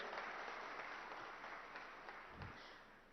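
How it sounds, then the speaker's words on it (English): A crowd at an awards ceremony claps steadily throughout, a dense wash of applause at moderate distance with no voices on top. "So a big round of applause for our chief guest."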